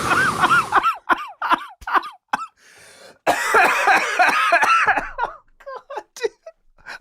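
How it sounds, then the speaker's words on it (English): A person coughs in a burst of harsh, repeated hacks with short gaps, loud and close. A laugh-like hacking fit comes in the middle, and voices can be heard around it. "That's a fucking Rona cough there, dude."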